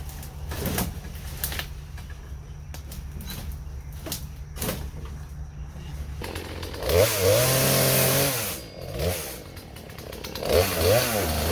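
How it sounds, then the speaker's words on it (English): A chainsaw cutting through dead vines and weeds around an abandoned 1976 Ford F150, first idling and sputtering in bursts, then revving hard into cuts with rising and falling engine pitch, close by. "I may or may not have grabbed me a piece of wire with a chainsaw"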